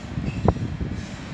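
CSX intermodal freight train rolling past in Folkston, Georgia, a steady low rumble of wheels on rail with a brief sharper clack, heard briefly from trackside.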